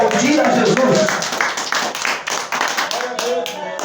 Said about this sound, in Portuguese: E quem crê pode bater palmas e aplaudir a Jesus.